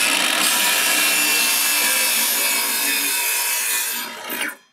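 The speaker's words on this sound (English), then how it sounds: "we've cut one of our 6mm pieces of plywood out" A hand saw cuts through 6mm plywood along a straight edge, producing a loud, continuous raspy sawing noise close up that ends abruptly as the cut finishes.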